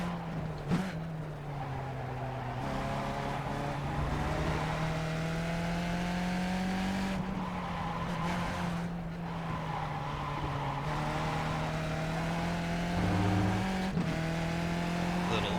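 A 120-horsepower race car engine in the iRacing simulator, droning at a steady high pitch through long banked corners with shifts in tone and a brief tire squeal, while someone talks over it throughout.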